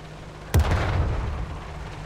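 An artillery shell strikes a Tiger tank in a tank video game, a single sharp, loud blast followed by a low rumbling decay that fades over the next second.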